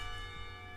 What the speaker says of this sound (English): everyone seems surprised when the bells signal the end of the lessons